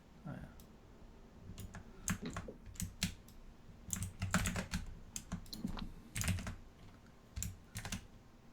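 Someone types on a computer keyboard in quick, irregular bursts of crisp clicks, close and fairly quiet, with pauses between runs.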